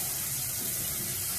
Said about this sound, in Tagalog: Ang tubig, i-try natin yung tubig.